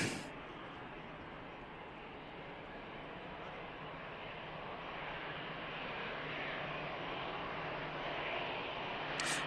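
A jet airliner departing Manchester Airport gives a faint, distant, even roar that swells slightly toward the end, with no voices over it.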